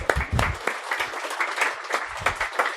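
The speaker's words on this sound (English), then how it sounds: "Round of applause for Thomas, my friend Thomas." An audience at a BSides Glasgow 2018 security conference talk claps for a volunteer called up for a game, a dense, steady round of applause lasting the whole stretch with a few brief voices mixed in.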